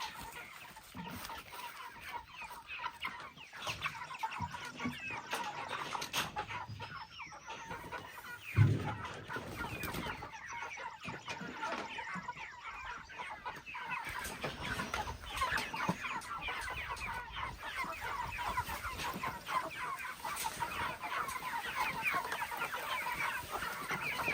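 Meat chickens clucking and chattering at feeding time on a small farm, a dense busy flock of overlapping clucks close by, with a brief bump of handling noise partway through and no talking.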